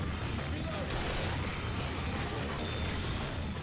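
Constant loud shooting in a Left 4 Dead 2 round, with a dense wash of overlapping gunfire and impacts carrying on without a break for the whole stretch.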